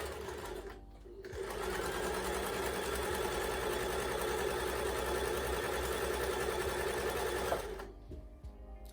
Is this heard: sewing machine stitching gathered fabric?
yes